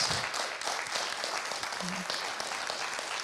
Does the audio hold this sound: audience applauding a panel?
yes